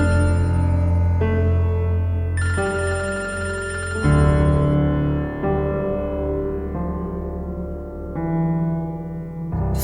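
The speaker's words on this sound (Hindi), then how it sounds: "फोन क्यों नहीं उठा रहे हो?" A telephone rings in a Pakistani TV drama scene, a steady repeating electronic ring that holds at a fairly loud level throughout with no talk over it.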